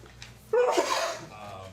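A single sharp sneeze at a city council work session, one loud burst rising out of a quiet room and fading over about half a second.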